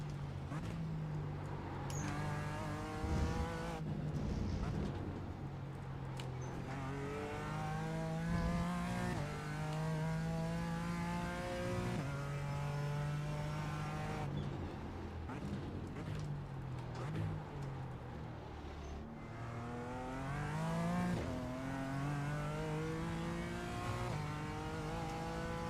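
BMW M4 GT4 race car lapping Suzuka in a racing video game, its engine revving up and down steadily through gear changes, with downshifts under braking, loud and close throughout.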